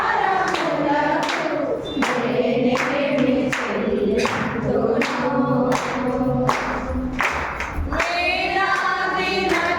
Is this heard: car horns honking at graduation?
no